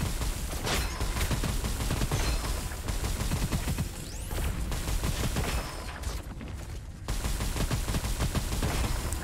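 Rapid automatic gunfire fills the first-person shooter Gunfire Reborn, with dense bursts of shots and a short lull in the middle before heavy firing resumes, loud and close with no talk.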